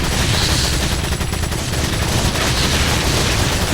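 Continuous loud UMP submachine gunfire in the video game Resident Evil 4, a dense unbroken rattle of rapid shots filling the whole stretch with no pauses and no talk.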